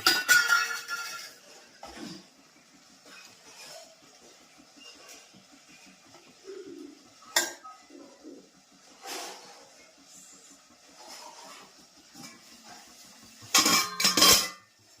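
Dishes and steel plates clink and clatter while a plate of fresh khaman is set out, with scattered light knocks through a quiet stretch and a louder burst of rattling plates near the end.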